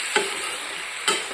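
Raw papaya pieces go into a curry sizzling in a pan, a steady close hiss broken by two brief knocks of a spoon against the pan.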